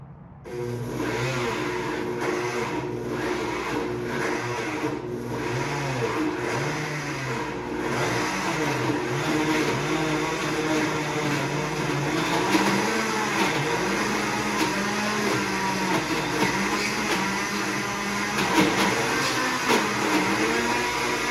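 A food processor runs on frozen ingredients, a loud motor whine that shifts in pitch as the load churns, with rattling and grinding, continuing for about twenty seconds.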